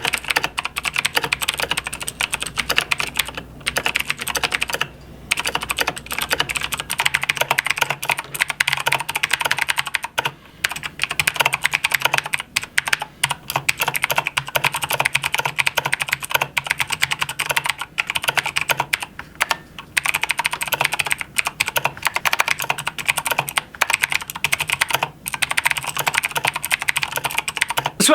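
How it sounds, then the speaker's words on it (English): Fast, steady typing on a Razer BlackWidow Ultimate mechanical keyboard clatters continuously up close, with crisp clicky keystrokes and occasional brief pauses. "just me typing with the keyboard"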